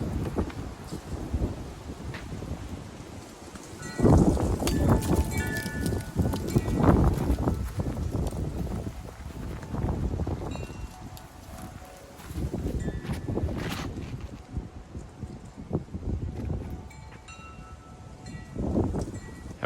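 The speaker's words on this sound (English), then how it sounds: "It is very windy today here in Oklahoma." Strong wind buffets an outdoor disc golf course in Oklahoma, rumbling across the microphone in loud low gusts that swell and ease over about twenty seconds, with rustling in the background.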